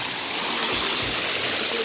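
Water at a local swimming hole rushes and splashes in a steady, close, hissing wash, loud and unbroken across the short moment.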